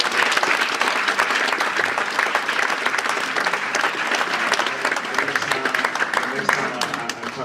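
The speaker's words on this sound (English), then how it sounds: "big round of applause" Sustained, loud applause from a live audience at a UK launch event, steady clapping filling the whole stretch without pause.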